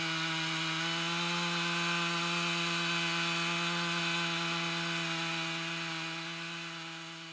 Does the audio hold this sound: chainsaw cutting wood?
yes